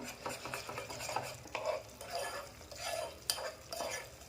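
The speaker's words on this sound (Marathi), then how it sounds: "हे मिक्स करून घ्यायचं आहे आपल्याला" A spoon stirs momo chutney in a pan after vinegar and salt go in, making repeated close scraping and swishing strokes in an uneven rhythm with light sizzling beneath.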